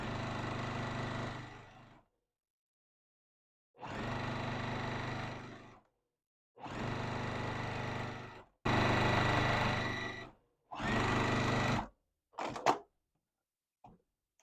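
A sewing machine stitches a quilt block for a peony star barn star sampler, running in five steady bursts of about two seconds each with pauses between, followed by a few short clicks and stops.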